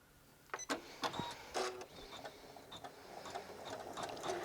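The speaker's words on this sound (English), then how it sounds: "as you can tell, it's not the loudest embroidery machine, which is pretty nice" Janome Memory Craft 550E embroidery machine stitching out a quilting design, giving soft, irregular mechanical clicks and short whirring bursts at low volume, fairly quiet overall, with no talking.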